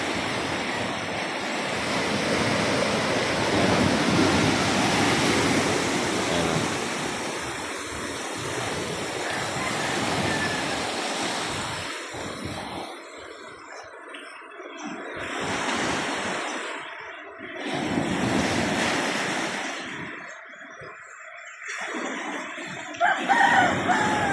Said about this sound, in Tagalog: Malakas ang alon dito sa amin mga kadagat.